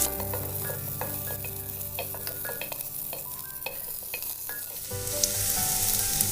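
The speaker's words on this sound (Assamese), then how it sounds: "পিঁয়াজ দি দিছোঁ, পিঁয়াজ এটা সৰু চাইজত মিডিয়াম কাটি পেলাই দি পেলাই এতিয়া লৰাই থাকিম এইখিনি।" Chopped onions fry and sizzle in a pan with a bay leaf, with a steady crackle broken by repeated scraping stirs, close and fairly loud, with a brighter sizzle surge near the end.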